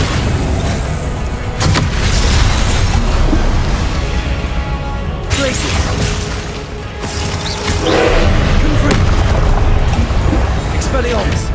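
Repeated booming spell blasts from Confringo casts in the game Hogwarts Legacy, played at maximum difficulty, loud and dense over a rumbling combat bed with several surges of impact noise.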